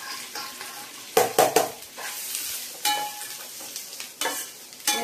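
Grated coconut frying in a pan for South Indian coconut rice, with a soft steady sizzle broken by several sharp scraping stirs of a spoon against the pan.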